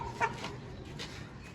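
An aseel rooster gives a short, faint cluck or two against a low background hum.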